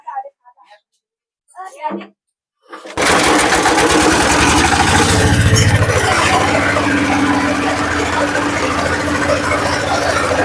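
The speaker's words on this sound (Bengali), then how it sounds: "আমরা গুটি ইউরিয়া তৈরি কিভাবে হয় সেটা কি আপনি হ্যাঁ, আমাদের দেখাবেন দেখাবো আসেন শুরু করি মেশিনটা স্টার্ট করতেছি" A urea briquette making machine starts up after a few short bursts of talk, then runs loud and steady with a dense mechanical roar and rapid rattling throughout.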